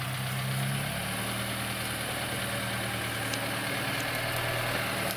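A GAZ Gazelle van's engine idles steadily nearby, a low, even rumble with faint vibration that continues alone for the whole stretch, with no talk over it.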